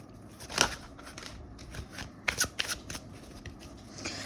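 Tarot cards being shuffled by hand in a quiet room, with a few crisp riffling bursts and soft rustles spaced over a few seconds, close and moderately loud, with no talking.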